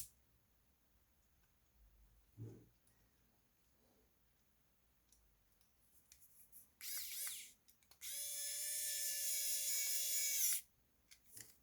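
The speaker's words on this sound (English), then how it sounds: "And I'm using a powered screwdriver here." A powered screwdriver driving hex screws into an RC car, heard as short close whirring bursts, first a brief buzz and then a longer high-pitched run of about three seconds, with faint clicks before and between.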